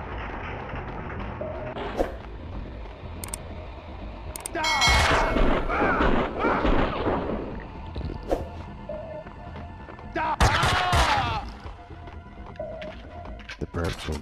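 Gunfire in the video game Max Payne 2, played on a PS2 emulator, comes as loud bursts of rapid shots in two main clusters. Scattered single hits sit between them, and voices speak over the action.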